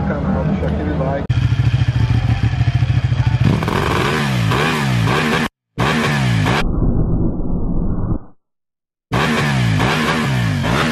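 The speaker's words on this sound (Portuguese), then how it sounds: "Vamos lá mostrar lá a sua moto. Tá estourando." A Yamaha XT 660 single-cylinder motorcycle engine revs loudly up close, with sharp popping bursts and abrupt cutoffs between runs; people speak over the engine noise.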